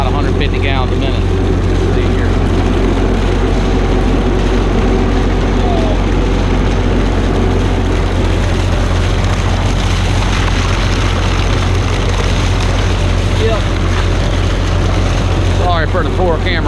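A water well pump runs steadily through a flow test, pumping about 150 gallons a minute, its constant low mechanical drone filling the whole stretch while people talk over it.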